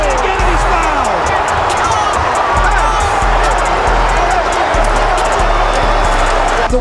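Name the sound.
United Center crowd cheering at a basketball game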